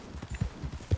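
Quick, soft hoofbeats clop in an uneven rhythm, a horse trotting at close range in Red Dead Online.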